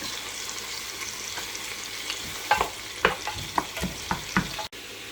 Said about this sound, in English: we're just gonna let those red onions saute up a little bit